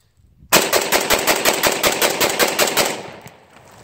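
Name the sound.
rapid rifle shots fired with EOTech sight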